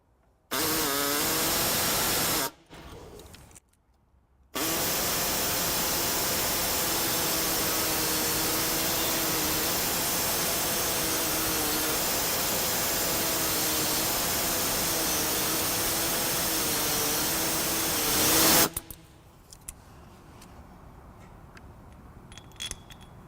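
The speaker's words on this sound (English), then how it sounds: "Today I'm going to be using an air saw." A pneumatic air saw cuts a notch into an existing hole in the frame of a 2013 Subaru Crosstrek, a steady loud buzzing drone with a short break near the start, running for most of the clip before stopping.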